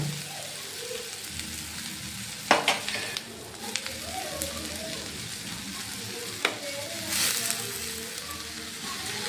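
Fenugreek leaves dropped into a frying chicken gravy: a continuous close sizzle with a few sharp crackles and pops, steady throughout, no talk heard.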